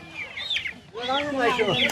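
Chickens clucking and squawking at a riverside village market, repeated harmonic calls close by with busy crowd chatter and voices around them.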